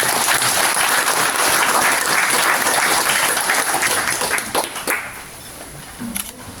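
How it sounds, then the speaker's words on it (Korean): Audience applause at a Buddhist commemorative ceremony after a list of honorees, a loud dense roar of clapping that holds steady, then thins and fades toward the end with a few scattered claps. "다시 한번 박수 보내주시기 바랍니다"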